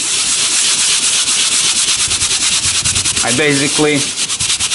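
A fine-bristled brush scrubs the textured vinyl top of a 1988 Caprice in quick, rhythmic circular strokes, making a loud, close, hissing scratch. Someone briefly speaks over it.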